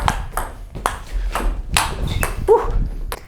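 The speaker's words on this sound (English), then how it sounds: "you can really hear the ball soak into the sponge" Table tennis ball striking a paddle with Xiom Omega VII Euro rubber sponge, a series of crisp, close pings in an irregular rally-like rhythm, roughly eight hits with brief gaps between.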